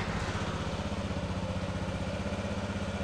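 Car engine with a stored check-engine fault code idling steadily, a close, even mechanical rumble with rapid regular pulsing, with no voices over it.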